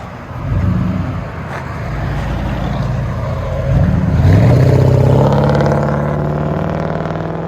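Mercury Grand Marquis 4.6L V8 with Vibrant resonators, true dual exhaust and 4-inch tips, driving with a deep exhaust rumble that swells louder midway as the engine pulls harder.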